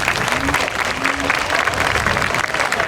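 Loud, continuous applause from an audience at the opening ceremony of the Goslokahátíð festival in 2024, dense clapping filling the space from start to finish.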